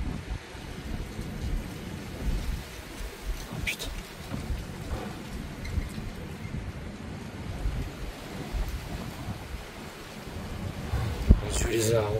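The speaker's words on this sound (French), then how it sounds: "rafale à gauche et à droite. Je l'entends passer aussi derrière." Strong sandstorm winds roar in heavy, rushing gusts around a building and trees, a dense, rumbling buffeting that swells and surges throughout, with someone speaking over it.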